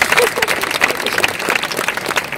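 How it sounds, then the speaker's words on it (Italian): An audience applauds in the Catamone courtyard at a political event: loud, dense, sustained clapping from many people, close and continuous, with some voices mixed into the crowd noise. "Un applauso, grazie."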